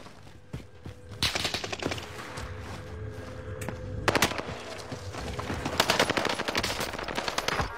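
Gunfire in a video game, bursts of rapid automatic shots shooting through a wall, fairly close and loud, with short gaps and scattered single shots between the bursts.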